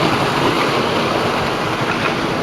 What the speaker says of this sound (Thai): น้ำตกธรรมชาติครับผม